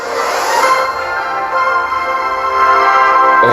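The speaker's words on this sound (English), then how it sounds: "obviously you can hear the classical music in the background" Orchestral music plays steadily at moderate volume, with sustained string-like tones and no voices over it.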